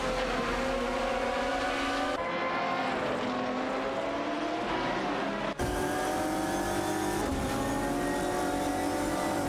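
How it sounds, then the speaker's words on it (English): Maserati MC12 GT1 and Porsche Carrera GTR race cars in a video game race, their engines roaring loud and close in a continuous high-revving drone, with a brief dip as a gear shifts. "Okayaki 3 in the Maserati MC12 GT1 is fiercely competing against Patrick in the Porsche Carrera GTR for the 16th position"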